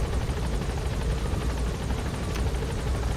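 Helicopter in flight from Metal Gear Solid V: The Phantom Pain, a steady loud rotor drone with rhythmic blade chop filling the scene without speech.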